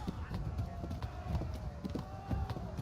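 In the video game Kingdom Come: Deliverance, a horse gallops with fast, rhythmic hoofbeats that are soft and continuous, with a faint tone lingering underneath.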